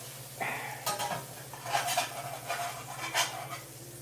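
A slice of milk-soaked panettone French toast sizzles in a pan as it is flipped, with several scraping and clattering bursts from the spatula against the pan over a steady hiss and low hum.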